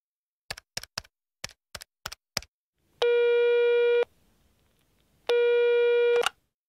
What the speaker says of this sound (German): Ein Telefongespräch.